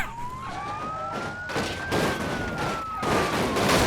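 A police car siren in the BeamNG.drive driving game wails in a long rising and falling tone, broken by loud broadband crashing bursts, with no speech.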